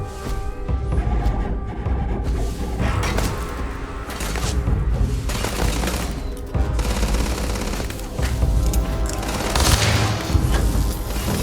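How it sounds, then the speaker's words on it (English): Sustained gunfire in the Starfield sci-fi video game, dense bursts of shots and booming impacts layered with game music, loud and continuous through the whole stretch. "Opening fire."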